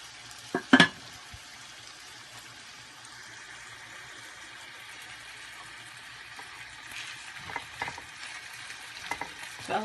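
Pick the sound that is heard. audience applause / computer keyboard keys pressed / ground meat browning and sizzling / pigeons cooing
ground meat browning and sizzling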